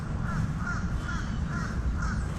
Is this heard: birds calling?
yes